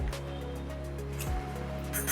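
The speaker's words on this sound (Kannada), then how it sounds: "ಈಗ ಇದು ನೀರು ಕುದೀತಾ ಇದೆ" Water at a rolling boil in a pressure cooker with fenugreek rice, rock salt and black pepper powder, a steady bubbling roar held close throughout with a faint clink near the end.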